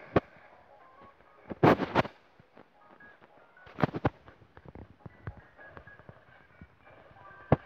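Gunfire in the video game Pixel Gun comes as scattered sharp bangs and short bursts, some loud and close, others fainter, spread irregularly across a quiet game background with no talk.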